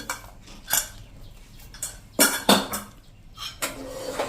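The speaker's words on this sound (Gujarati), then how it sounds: "તો આપણે કુકરને ખોલી લઈએ" A home pressure cooker being opened after cooking dal, with sharp metallic clanks and scrapes of the lid and utensils at close range, several distinct knocks spread unevenly over a few seconds with no talk.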